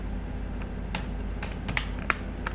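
Sparse keystrokes on a computer keyboard while coding HTML, a handful of light clicks spread over a couple of seconds above a steady room hum.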